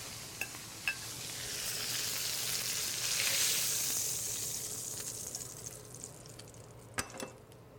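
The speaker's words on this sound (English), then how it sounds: "So there it is, our beautifully sauteed ribeye steak." Ribeye steak sautéing in a pan gives a steady, fairly quiet sizzle and hiss, with a few faint clicks and taps near the start and end.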